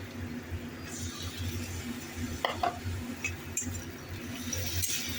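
Quiet sizzling of onion, ginger and garlic frying in a pan with a bay leaf and two chillies, with occasional stirring clinks of a utensil against the pot.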